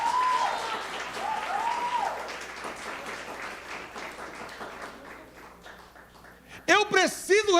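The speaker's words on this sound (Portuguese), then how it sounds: "Se é para aplaudir, aplaude melhor." Church congregation applauds during a family service, moderate clapping that gradually thins out, overlapped by music and vocal tones at the start and again near the end.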